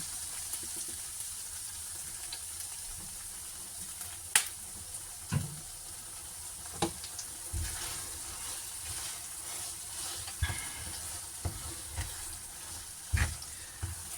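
Yaki udon sauce made with sake and unagi tare simmers in a pan, giving faint, sparse bubbling pops and small sputters over a quiet, steady background.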